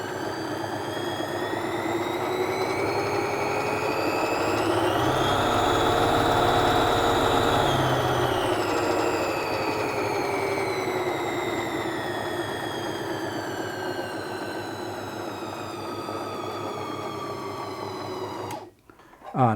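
A Bernina sewing machine motor driven through a Type 289/287 foot control spins up, whines steadily higher, eases back down and holds a constant hum, ending in a brief clunk as it stops; a quiet voice may sit underneath.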